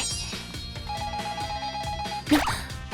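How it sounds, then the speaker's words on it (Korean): A telephone rings with repeated electronic trills in a steady pattern, fairly loud and close, with a brief louder bump near the end. "병원에서 전화 왔나?"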